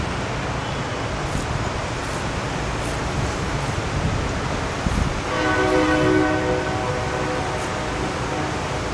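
A train passes outdoors with a broad, continuous rumble, and a horn-like tone sounds for about a second partway through before the noise carries on.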